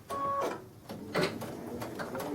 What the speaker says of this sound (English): I'll press on the presser foot, and it's going to stop on its own, whatever distance you tell it to sew.